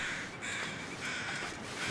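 Crows cawing in the snowy wilderness of the video game The Long Dark, faint hoarse calls over a steady windy background hiss, no speech.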